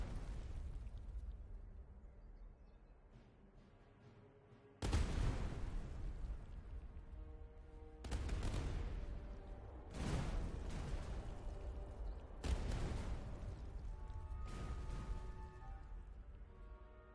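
Cannon fire and explosions from the Napoleonic-era strategy game Master of Command: a rumbling battle bed broken by four loud booming blasts at irregular intervals, each with a long decaying rumble.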